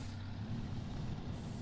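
A truck in the video game SnowRunner: a low, steady engine rumble with a faint hiss on top, brief and fairly quiet, with no talk over it.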